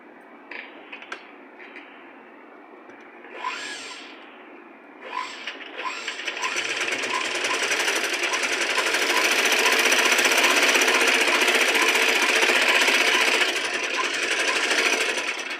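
A sewing machine stitches invisible piping, starting with a few short bursts and clicks, then running steadily in a loud, fast continuous whir that holds to the end.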